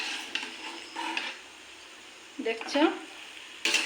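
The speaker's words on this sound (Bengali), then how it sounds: "এই দিয়ে দিলাম মিষ্টির রসে" Fried pantua sweets go into hot sugar syrup, giving soft splashes and a brief sizzle with clinks of a pan and utensil. A voice speaks briefly over the kitchen sounds.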